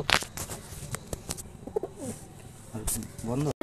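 A pigeon held for sale gives soft low coos under someone speaking close by, with a few sharp clicks and rustles.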